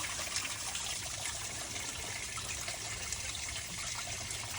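Water from a garden hose flushes steadily through the engine block of a 1992 Chevy C1500 pickup parked nose downhill, a continuous close hiss and splash of running liquid with no pauses.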